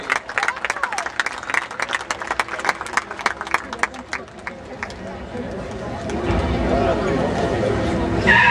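Audience applause and crowd noise at a 2007 festival in St Albert, following a trophy presentation at a vehicle event; clapping builds into a louder, dense wash of applause toward the end, with an announcer's voice over the earlier part.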